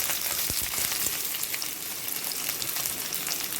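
Steady crackling sizzle of chopped green chili and onion frying in hot oil, continuous and close, with a few soft stirring knocks near the start.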